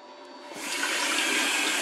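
Water gushing from a tap after a Vaillant boiler repair, starting quietly and swelling within a second into a steady, close hiss of running water with no voices.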